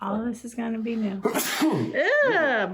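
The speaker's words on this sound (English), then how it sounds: "I'm not walking in that sneeze." A person sneezes loudly and close by indoors during a ceiling renovation, one explosive burst following speech, with more talking right after.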